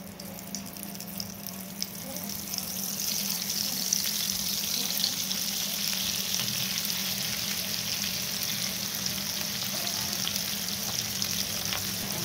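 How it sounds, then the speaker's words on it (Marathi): Ragda patties hit hot oil in a pan and settle into a steady, close sizzle that swells after a couple of seconds and holds evenly, with no one talking. "तेल तापलं की आपण हे एक पॅटीस याच्यामध्ये टाकून घ्यायचे"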